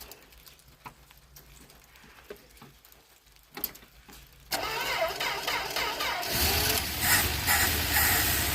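A 1968 Plymouth Valiant, unstarted for 24 years, gives a few faint clicks and cranks. Then its engine catches with a loud, ragged roar that settles into a rough, steady idle close by.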